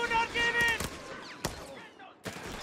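An MG42 machine gun firing in the video game Company of Heroes 3, a few sharp bursts and cracks among other battle noise, with a commentator talking over it.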